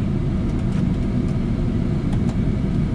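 A combine harvester pulls away in four-wheel drive at the start of a barley harvest on fairly damp ground, its engine a steady, close, continuous rumble with no voices.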